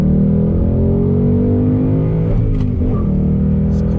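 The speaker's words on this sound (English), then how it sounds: "Great sound coming from that V8" A 2020 Ford Mustang GT V8 engine roars loudly and continuously, its deep rumble shifting pitch as it accelerates toward 7,500 RPM, with no voices.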